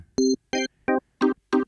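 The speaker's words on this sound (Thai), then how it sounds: "ครับเดี๋ยวจิเปิดเสียงให้ฟังนะครับกดประธานก่อนนี่ออแกน" A Casio LK-90 electronic keyboard on its organ voice plays five short, separate notes in an even rhythm, clean and close with silence between them.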